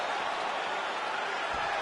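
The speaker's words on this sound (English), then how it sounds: "So the crowd voicing its appreciation after that round." A steady, dense roar of a large arena crowd cheering after a round in a UFC video game bout between Gane and Miocic, even and sustained throughout.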